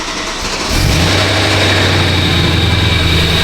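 A BMW E91 M3 engine cold-starts, heard up close from the cabin, with no exhaust fitted: a quick crank, then it catches and settles into a loud, steady high idle with a droning hum.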